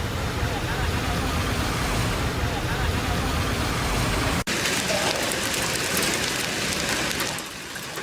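Steady, dense heavy rain pours down in Mecca with a constant hiss throughout, the texture shifting slightly brighter partway through before easing a little at the end.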